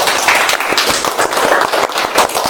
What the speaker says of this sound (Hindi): पहले बात तो ताली बजा लो खुद के लिए